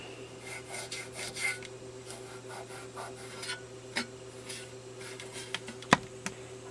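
Gunk being scraped and rubbed out of a part on a Craftsman 5 hp 2400-watt generator, a steady close rasping with scattered sharp clicks and one louder knock near the end, under a constant low hum.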